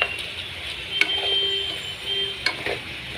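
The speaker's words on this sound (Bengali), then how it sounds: "এই পাশ দিয়ে গোস্তটা নাড়াচাড়া করি।" Broiler chicken meat frying in a pan is stirred with a bamboo spatula, giving a steady sizzle with a few sharp scraping clicks from the spatula against the pan, close and even throughout.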